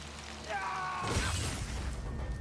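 Combat from the video game Ghost of Yotei: a tonal musical cue gives way to a sudden burst of clashing, crashing impacts with a deep rumbling undertone, fairly loud throughout.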